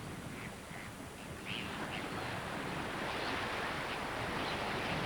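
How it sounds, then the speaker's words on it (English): Ocean surf breaks against a rocky shore, a steady roaring wash of waves with wind, heard at moderate distance with no voices. "Few species can cope with the powerful crashing of the waves where ocean meets land head-on."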